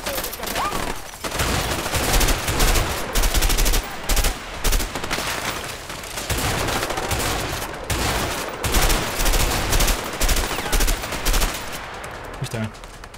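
Heavy gunfire rattles through a firefight in the video game A Way Out, with loud, dense bursts of automatic weapons repeating almost continuously and short gaps between volleys, while voices call out over the shooting.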